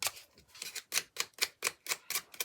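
Scissors roughening the edges of doubled paper pages in a craft project, giving about ten quick, crisp snipping strokes in a steady rhythm, close and fairly quiet, with no talking.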